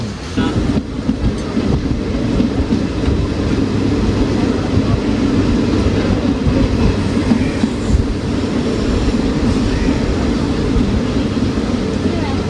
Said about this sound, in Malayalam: ചേർത്തല റെയിൽവേ സ്റ്റേഷനിൽ നമ്മുടെ കോഴിക്കോട് ജനശതാബ്ദി എത്തിയിട്ടുണ്ട്